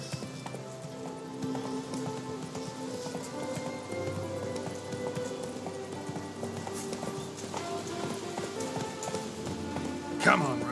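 Roach the horse gallops in The Witcher 3, hooves clip-clopping in a steady quick rhythm over a constant bed of falling rain, with a sharp burst near the end.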